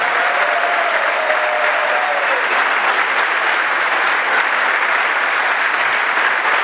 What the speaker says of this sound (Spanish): Si alguien lo cree, dele fuerte ese aplauso al Señor en esta mañana